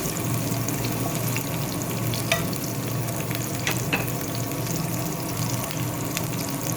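Onion sautéing in a pan for a steak dish, a dense steady sizzle with a few scraping stirs and light clinks, close and loud, with no talking.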